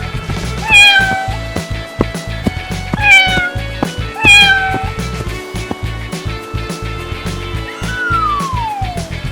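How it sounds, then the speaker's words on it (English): A cat meows three times in quick succession, loud and clear and close to the mic, then gives a longer, falling meow after a pause. A cartoon-style melody plays underneath. "Cat."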